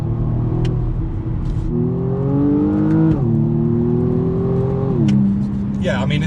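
A 2019 BMW M135i xDrive hatchback with a 2-litre turbo engine and 8-speed Steptronic gearbox accelerates hard, its steady engine note climbing in pitch, dropping at each upshift around the three- and five-second marks, then climbing again.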